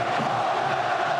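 Steady, dense crowd roar fills a boxing arena during a Ricky Hatton vs Juan Lazcano fight, a continuous loud wash of voices with no distinct cheers or individual shouts standing out.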